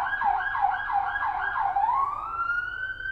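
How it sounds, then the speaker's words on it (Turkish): An ambulance siren wails in a steady repeating rise-and-fall pattern, then settles into a sustained tone as it passes along the street, fairly loud and heard alone. "Bu ambulans."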